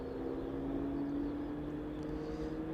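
A departing aircraft at East Midlands Airport produces a steady, distant engine drone with a sustained low hum and a faint whine, unbroken and even throughout.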